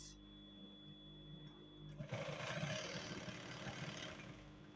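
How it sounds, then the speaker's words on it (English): A sewing machine runs a topstitching seam on cargo pants, starting up about halfway through and whirring steadily and fairly close for the rest of the clip. "I've top stitched it again and secured it."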